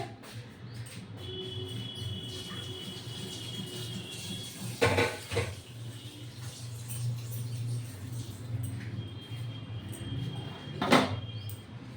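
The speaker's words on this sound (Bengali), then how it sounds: "এবার আমি কি করবো, একটু ঢেকে দেবো।" A lid clatters down twice over a pan of khoira fish cooking with cumin and spice paste, each a short, close metallic knock over a quiet background hum.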